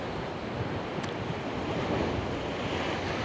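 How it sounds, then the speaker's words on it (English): Turbulent water churns and washes in a dense, unbroken roar of waves mixed with wind buffeting the microphone, loud and constant for the whole stretch. "There's the turbulence in the water."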